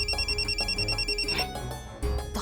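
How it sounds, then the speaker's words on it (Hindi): A telephone at home rings steadily with a repeating electronic trill under a low background hum. "तो हम इस फोन से परेशान हो गए। फोन नहीं है, रेडियो है, जब देखो बजता रहता है।"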